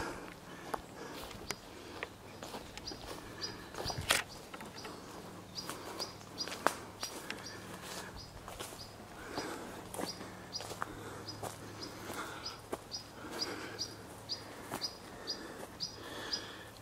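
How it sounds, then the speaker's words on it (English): Birds chirp in short, scattered calls in woods outside an abandoned house, faint and distant, with footsteps, sniffing and scattered clicks nearby. "Silence, some birds."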